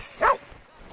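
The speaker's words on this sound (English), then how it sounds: "Mangy mutt." A single short, sharp bark from a mangy mutt in Red Dead Redemption 2, loud and close, then quiet ambience.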